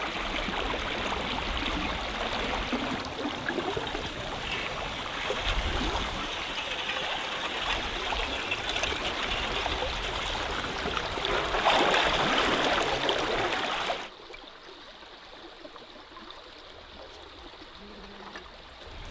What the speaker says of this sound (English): the ice is breaking up and it got jammed in this little creek and it's flooding it